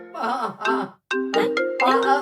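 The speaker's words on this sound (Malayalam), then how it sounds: "ഓ അതെ ഫോൺ വരുന്നു ഫോൺ വരുന്നു" A mobile phone rings up close with a bright, repeating melodic ringtone in short bursts, briefly broken by a pause before the tune resumes.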